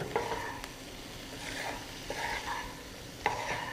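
Veg dry Manchurian with spring onion being stirred in a pan: faint scraping and light sizzle with a few sharp utensil clinks against the pan, close and steady, with no talking.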